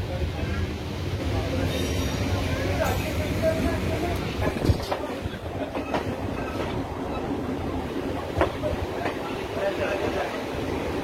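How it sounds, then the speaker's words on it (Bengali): The Asansol–Purulia MEMU passenger train rolls slowly into Purulia station, its wheels clattering over rail joints with a rumbling drone and brief squeals. People talk over the steady noise. "ফাইনালি চলে আসছে আমাদের ট্রেন পুরুলিয়াতে"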